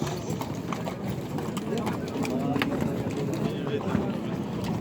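A black horse at the Uchkun livestock market clip-clops in a quick, uneven rhythm of close hoof knocks. A busy market murmur and voices sit underneath, and birds call now and then.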